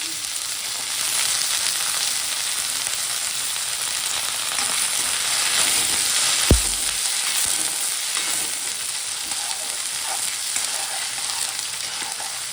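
Whole spices such as radhuni, cumin, bay leaf and dried red chilli sizzle in hot oil as a tempering for lentil dal with radish and beans; a steady, hissing frying noise runs throughout, broken by one dull thud partway.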